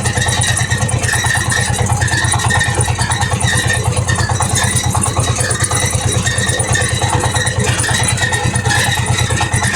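A mini tractor's small engine idles steadily and loudly, its low chugging rhythm constant throughout with no pauses or voices.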